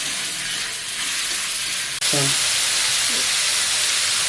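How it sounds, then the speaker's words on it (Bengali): Chicken meat frying in a pan on a home stove, a steady broadband sizzle that jumps louder after a brief break, with a short faint voice-like sound near the middle. "এর মাংসটা দিয়ে দেবো মাংসটি ভালো করে কষে নেব"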